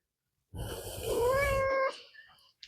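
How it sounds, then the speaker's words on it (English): A kitten lets out one drawn-out meow, rising then holding for about a second before fading, close and clear in a quiet garage with no talking. "There's definitely a kitten here."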